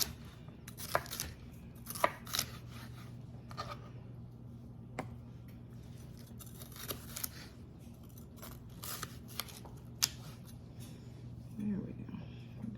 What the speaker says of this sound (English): That's a good thing about chopping stuff.